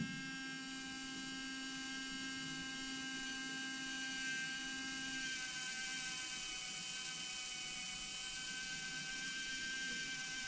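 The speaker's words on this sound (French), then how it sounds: "Il y a le petit moteur qui fonctionne, hein. Donc ça descend à la vitesse réelle." A small electric motor lowering the axle of a Tamiya Scania 770S V8 8x4 model truck whirs steadily with a high, thin whine, its pitch shifting slightly partway through, close and continuous.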